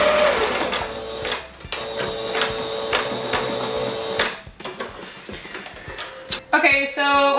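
A sewing machine running a zigzag stitch on costume fabric, close mechanical whirring and needle clatter in short runs with pauses, a person speaking over it.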